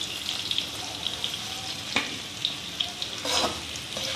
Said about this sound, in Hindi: लगभग 10 से 15 मिनट इसको हमें फुल फ्लेम पे फ्राई करना है।